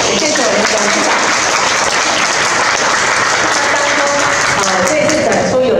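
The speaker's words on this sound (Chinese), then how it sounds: "大家就给个掌声一下" Audience applause at the opening ceremony of an exhibition of classical art, heard as a loud, steady wash of clapping from a large crowd that lasts for several seconds.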